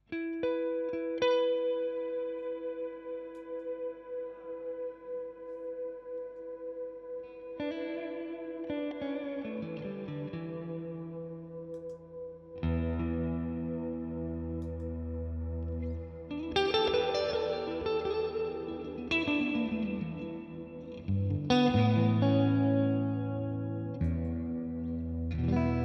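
An electric guitar plays through a reverb pedal set to a heavy wet mix, with sustained chords and picked notes trailing long washy tails, growing louder and denser in layered swells toward the end.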